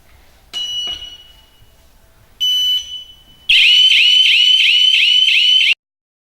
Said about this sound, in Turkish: gaz kaçağı algıladığı zaman alarmı devreye sokar